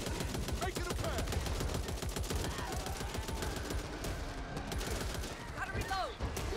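Dense, rapid automatic gunfire from the video game Back 4 Blood rattles on continuously as a fast stream of sharp shots, with voices occasionally heard in the mix.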